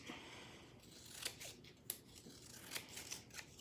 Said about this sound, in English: Then I'm gonna snip, snip, snip, snip.